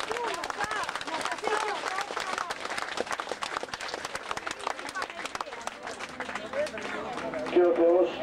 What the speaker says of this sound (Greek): Ένα χειροκρότημα για όλους σας.